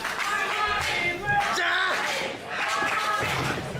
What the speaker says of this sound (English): The crowd really behind Armani Kayos here tonight